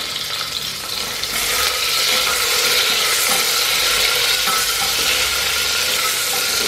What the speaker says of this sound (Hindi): अब इसमें मैं डाल रही हूँ प्याज।